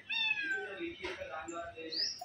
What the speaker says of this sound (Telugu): క్యాట్ అయితే తింటుంది.